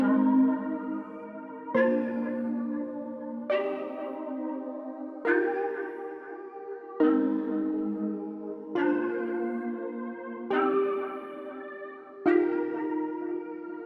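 Synth multi-key one-shots from Analog Lab V Collection, played as basic chords and alternating in round robin order: eight sustained, reverberant chord hits about every 1.7 seconds, each with a slightly different timbre, with no talking.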